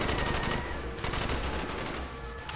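Rapid gunfire from the video game Call of Duty Black Ops 1, mission Operation 40 on Veteran difficulty, crackles in dense overlapping bursts over a steady roar of battle noise, with no voices.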